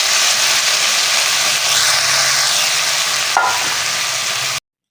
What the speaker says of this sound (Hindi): अब इसमें डालनी है मेथी और तेज आंच पे कुक करना